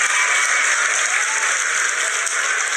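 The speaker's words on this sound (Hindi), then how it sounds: "तालियां" A crowd claps in a dense, continuous burst of applause, loud and close, steady for a few seconds without voices.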